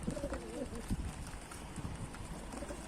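Pigeons in a coop, low soft cooing calls at close range in the opening second, with a faint steady background and a voice in Turkish talk around them.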